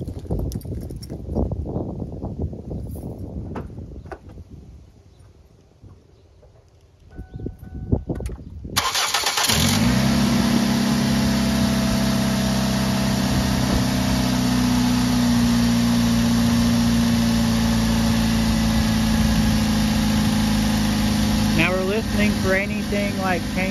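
A 2006-2020 Ford Focus engine cranks briefly and fires on a cold start, then settles into a loud, steady high idle with a constant hum and faint whine, with no talking over it.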